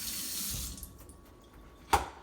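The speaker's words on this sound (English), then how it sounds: "he's going to get rinsed up and cleaned here" Running water from a kitchen sink faucet rinses a utensil, a soft steady splash that fades out, followed by a brief clink near the end.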